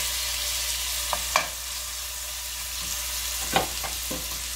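Shrimp for fried rice sizzle in a hot pan with a steady, even hiss, broken by a few sharp knocks of a spoon against the pan.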